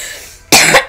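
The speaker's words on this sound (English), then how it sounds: "This horrible cough." A single harsh cough bursts out loud and close after a moment of near silence.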